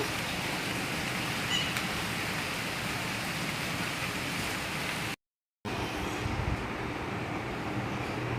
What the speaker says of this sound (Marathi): वा मस्त रिमझिम पाऊस पडत आहे